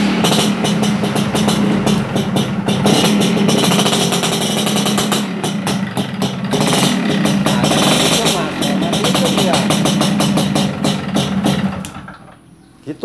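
Motorcycle engine running steadily and loudly with a rough, pulsing rattle throughout, cutting off near the end; the bike's lights and battery are powered while it runs.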